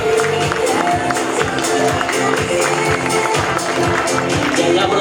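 Audience at a swimwear fashion show applauding steadily, a dense, sustained clapping and crowd noise that stays loud and even throughout, with faint voices mixed in.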